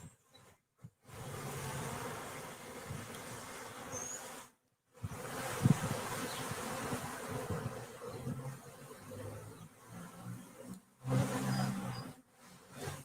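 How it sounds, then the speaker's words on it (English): Honeybees buzz steadily around hive frames during a beekeeping workshop, a dense, fairly loud drone close by with brief gaps and occasional handling bumps. "And you can hear the bees."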